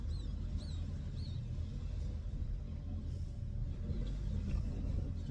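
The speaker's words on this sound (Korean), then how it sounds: "제 차 디젤 엔진이라 그 특유의 진동과 소음이 있습니다." A diesel car engine rumbles low and steady from inside the vehicle with a continuous exhaust drone, faint and unbroken, with brief high chirps early on.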